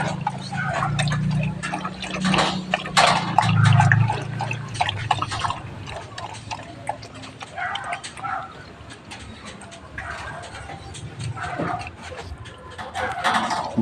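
A puppy laps water from a bowl in quick, uneven little slurps and drips, close by and moderately loud, with faint background sounds around it.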